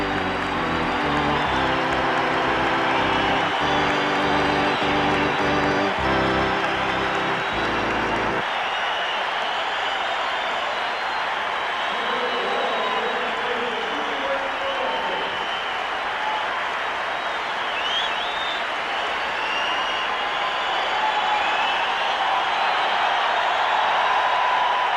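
A large arena crowd at Boston Garden applauding John Havlicek, a dense, sustained roar of clapping and cheering that fills the space, with a short stretch of organ or band music at the start.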